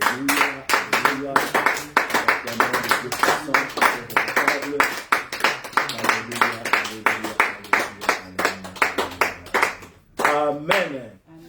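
A church congregation claps in a fast steady rhythm, loud and close, with singing voices mixed in and a brief break near the end.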